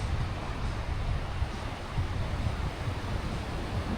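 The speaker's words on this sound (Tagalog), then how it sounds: "marinig mo yung waves, 'di ba?" Sea waves wash onto a wide beach at Bonuan Tondaligan in Dagupan City, a soft, continuous low surf rumble with faint wind buffeting, fairly quiet and without talk.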